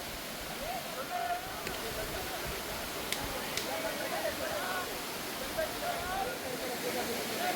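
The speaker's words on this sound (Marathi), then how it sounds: "तिथे हा धबधबा आलेला आहे" A hidden waterfall at Kasarvadavli roars as a steady, dense wash of rushing water, constant and fairly loud throughout with no pauses.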